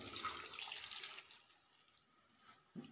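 Water poured into a pan of beef karahi spiced with red chili, crushed chili, salt and turmeric, a steady close splashing stream for about a second and a half that thins to faint trickles.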